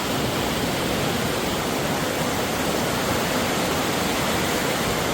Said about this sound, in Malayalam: ഒരു ഹൈറ്റിൽ നിന്ന് വെള്ളം താഴേക്ക് ഇങ്ങനെ പതിക്കുകയാണ്. ചെറിയ വെള്ളച്ചാട്ടം പോലെ.